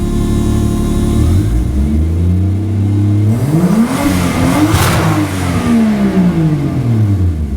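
A 2JZ engine swapped into a Mercedes W124 revs hard, climbing in pitch and bouncing off the rev limiter with a stuttering, harsh note, loud and close throughout.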